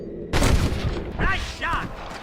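Gunshots ring out at rustlers in Red Dead Redemption, a sharp opening blast followed by further reports, with a voice calling out between the shots.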